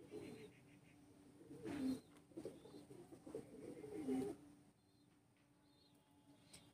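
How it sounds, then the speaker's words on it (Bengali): A male pigeon at a loft coos in soft, low, repeated throaty calls, fairly close but quiet, with faint chirps and background noise around it. "এটা হচ্ছে নর পায়রা।"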